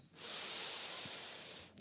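A slow, steady inhalation through the nose during a guided meditation, a soft close airy hiss lasting well over a second, with a faint sniff at the very end.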